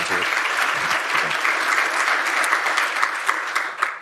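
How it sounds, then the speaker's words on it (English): Sustained applause from a civic meeting audience, dense steady clapping that fills the whole stretch at moderate volume with a few sharper claps standing out near the end. "round of applause for Mike."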